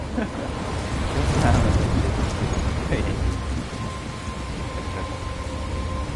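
A thunderstorm rumbles with heavy rain, a low roll swelling near the middle and then settling into a constant downpour hiss.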